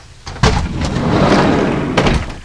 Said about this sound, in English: there's one thing I want to show you, and that's what's behind this sliding door.